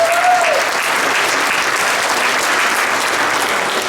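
An audience claps steadily for several seconds, a dense, even wash of applause at a resort fireman's fun golf event, with a brief voice heard at the very start.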